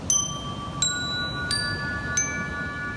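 Bright bell-like chime tones struck four times at even intervals, each ringing into sustained overlapping notes that blend into a chord, fairly soft over faint background hiss.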